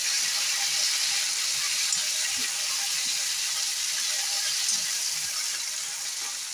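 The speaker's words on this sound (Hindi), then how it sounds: "अब टमाटर डालेंगे इसमें हल्का सा, इनको भी फ्राई करेंगे" Onions and tomatoes fry in a pan, an even, continuous hiss of sizzling oil that stays steady throughout, with faint stirring and no speech.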